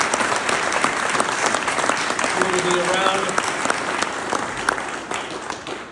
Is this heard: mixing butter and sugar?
no